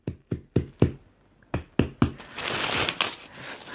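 Wrapped wedding gift package being opened by hand: several sharp knocks and taps first, then a longer stretch of loud close crinkling and tearing of plastic wrap and paper.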